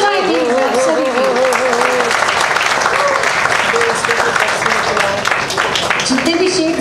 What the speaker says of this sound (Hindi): द डायरेक्टर जियाउल्लाह खान के लिए तालियां हो जाएगी सभी की।